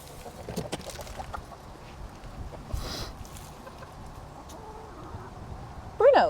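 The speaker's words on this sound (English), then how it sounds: "Those aren't normal chicken noises, Bruno." Chickens make odd, unusual noises outdoors, faint scattered clucks under a quiet rustling background, with a louder sharp squawk close by at the very end.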